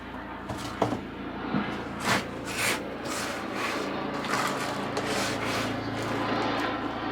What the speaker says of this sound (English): Helicopters are busy today.